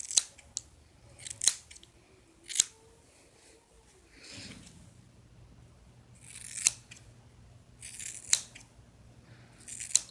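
Scissors trimming hair bangs close up, with crisp individual snips spaced every second or two over quiet room noise, plus a few softer brushing rustles of hair.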